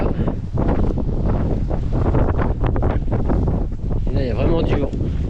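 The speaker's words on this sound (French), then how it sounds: "Et là il y a vraiment du vent." Strong wind buffets the microphone outdoors in a garden planting area, a loud continuous rumble and roar with someone speaking French underneath it.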